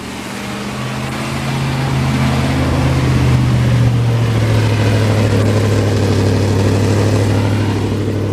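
A 1992 Ford F150 with a 5.8L engine and a restricted exhaust runs steadily, its low rumble climbing as the throttle is opened and then holding at a raised, slightly uneven drone, close and loud throughout.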